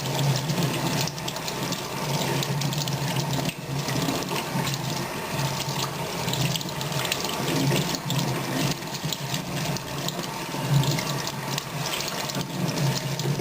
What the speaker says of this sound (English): Make sure the water gets absolutely everywhere.